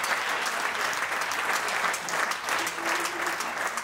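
A concert audience gives sustained, dense applause for a performer at a live show, loud and steady throughout with no voices breaking through.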